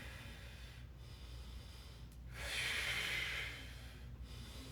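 A single slow, heavy exhale through the nose and mouth rises and fades during a stick mobility exercise, close and fairly quiet, with low room hiss around it.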